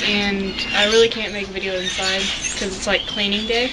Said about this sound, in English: There's a lot of birds outside